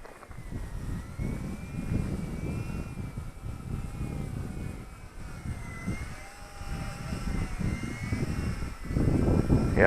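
An Eachine E130 small RC helicopter's engine whines steadily in flight, with wind buffeting the microphone throughout, rotor noise rising slightly toward the end.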